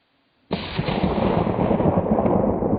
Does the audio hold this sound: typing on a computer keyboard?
no